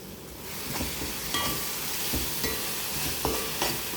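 Spices sizzle and fry in a pan with curry leaves, salt and turmeric while being stirred, giving a steady close hiss with occasional scraping stir strokes and no talking.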